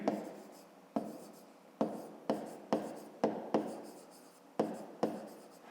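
Pen or pencil writing by hand during a fifth-grade math exercise, a series of close, distinct strokes and taps repeating in a steady rhythm, with no talking.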